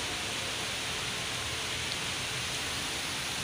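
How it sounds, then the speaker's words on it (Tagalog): Heavy rain pours steadily outside a shopping mall, a dense, even hiss of water that stays constant from start to finish with no voices over it. "lumakas yung ulan, nakikita nyo, no?"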